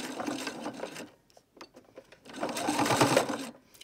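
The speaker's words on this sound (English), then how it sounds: "I'm going to go and sew over the first stitches here and do back stitch" Domestic sewing machine back-stitching over the first stitches on a simple fabric shopping bag: two close bursts of rapid, whirring needle clatter separated by a short pause.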